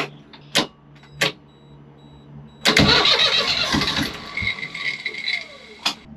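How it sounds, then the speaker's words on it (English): A boat's diesel engine with low batteries cranks in one long, laboured churning burst that fails to catch, framed by a few sharp clicks and knocks before and after. "I don't know why the engine's not starting"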